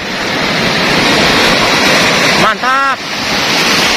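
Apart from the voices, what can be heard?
big ocean waves crashing on rocks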